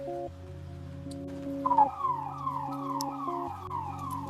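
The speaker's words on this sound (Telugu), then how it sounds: "ఏంటి వెనకాల సైరన్ మోగుతుంది" A wailing emergency siren rises and falls in repeated sweeps, heard at a distance outdoors in Delhi, steady and moderately loud without any talking.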